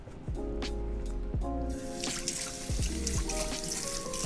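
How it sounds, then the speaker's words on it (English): Water running from a kitchen tap while a knife is rinsed, a steady soft trickle and splash throughout, with faint musical tones in the background. "let me rinse off this this knife"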